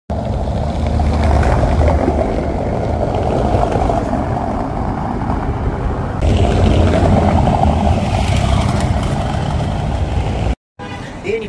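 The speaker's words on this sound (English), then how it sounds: "All the streets as well here are cobbled, which is really nice, because you can hear the tyres rumble along behind you." Car tyres rumble over cobbled streets in Prague, a continuous coarse roar of passing traffic that stays loud and close before cutting off abruptly near the end.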